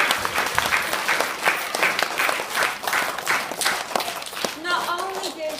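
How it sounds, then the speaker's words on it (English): Audience clapping at a harvest festival, steady dense applause from a crowd for several seconds, with a voice speaking over the end. "give yourselves a great big clap for all the..."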